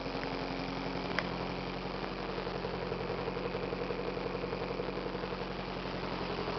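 A Nissan 200SX SE-R car with a GTi-R engine idles steadily nearby, a low even rumble with a faint rhythmic pulse and no voices.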